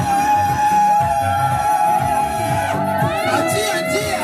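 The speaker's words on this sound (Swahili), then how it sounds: "Shangilia kwa vigelegele." At a village wedding celebration in Nyarugusu, a crowd raises high trilling ululations over lively chatter and shouting, loud and close, with voices talking throughout.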